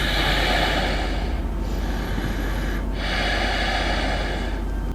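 A voice imitates heavy, rasping breathing, like slow snorting breaths in a quiet graveyard setting, continuous and close for several seconds with no talk.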